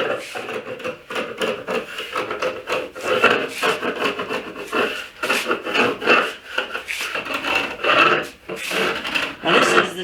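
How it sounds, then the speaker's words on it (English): Dried glue is scraped off the back of a wooden tabletop in a workshop, making steady, repeated rasping strokes that are close and fairly loud, with no speech. "I'm just going to scrape the glue off on the back of this top"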